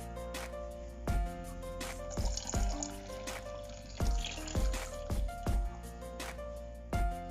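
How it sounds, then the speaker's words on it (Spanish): Water poured into a simmering pot of chicharrón in green salsa, a steady liquid pour and trickle with sharp clinks of utensils against the pot at intervals, close up and fairly quiet, no talking. "Le voy a agregar el medio litro que les comenté de agua."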